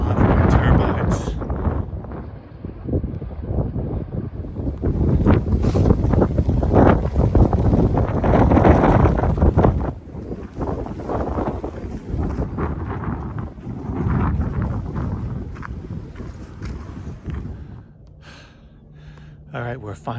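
Strong wind buffets the microphone at a wind farm along the Pacific Crest Trail, a loud continuous roar with gusts that ease near the end, and a voice comes through briefly.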